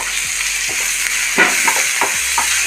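Onion and other chutney ingredients fry in a pan, giving a steady close sizzle with light scraping stirs and no voices.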